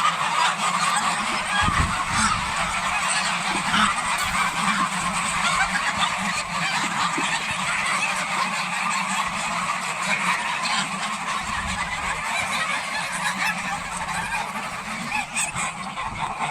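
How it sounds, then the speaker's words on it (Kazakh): A flock of geese being fattened honks steadily and loudly, feeding on potato peels from a bucket, the overlapping calls forming a dense, unbroken chorus. "Қаздар мынандай мундирмен картошканың мундирінен тамақтандырып отыр."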